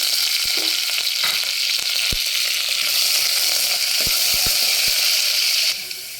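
Steady, loud sizzling of spices, onion and curry leaves frying in hot oil as a tempering, with a few sharp clicks and pops scattered throughout, no voices.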